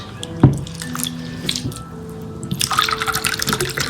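Water splashes and trickles into a cooking pot holding tomatoes and mangoes for mango rasam, starting with a sharp drip and building to a steady pouring stream.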